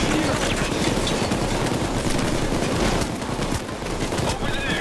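Sustained gunfire rattles through a PayDay 2 firefight, dense overlapping shots and bursts forming a loud, continuous barrage that dips slightly near the end, with occasional voices mixed in.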